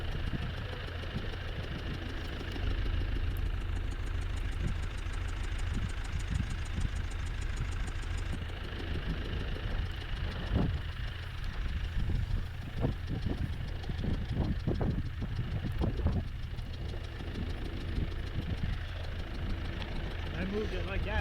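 A skidder engine runs and idles close by with a steady low rumble and a knocking undertone, while people talk intermittently over it.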